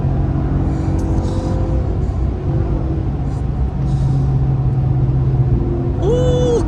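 A pickup truck accelerates along a road heard from the driver's seat, a steady loud engine rumble and road noise with a rising engine tone near the end.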